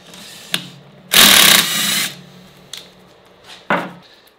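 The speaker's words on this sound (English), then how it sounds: "I'm not sure the impact will have enough torque because this thing is pretty worn out." An impact wrench hammers out Allen head bolts on a Subaru EJ205 short block, one loud burst of about a second, followed by a few short clanks and clicks of the tool and parts.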